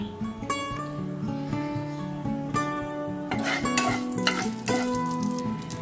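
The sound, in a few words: mustard seeds and dried chilli crackling in hot oil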